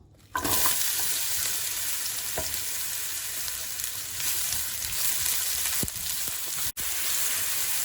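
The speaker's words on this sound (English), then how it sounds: "in the same frying pan, add the apple" Continuous loud sizzling of apple pieces frying in a pan, starting abruptly and holding steady, with a few faint clinks and stirring sounds.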